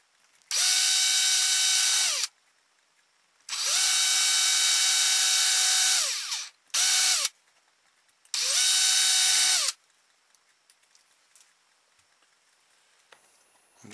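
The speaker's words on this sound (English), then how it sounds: "I've marked three holes there where I'm going to drill through" A power drill whirs loudly in four bursts, three long and one short, with quiet pauses between them, drilling through marked holes in a toy boat propeller.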